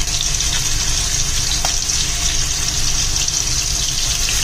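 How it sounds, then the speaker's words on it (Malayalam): Prawns for a Kerala-style roast sizzle steadily in hot oil over a low flame, a loud, continuous hiss without a break. "എണ്ണ നല്ലപോലെ ചൂടായിട്ടുണ്ട്. നമുക്കിതിലേക്ക് പ്രോൺസ് ഓരോന്നായിട്ട് ഇട്ടു കൊടുക്കാം"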